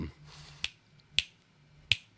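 Three sharp, close finger snaps spaced roughly half a second apart, with quiet room tone between them.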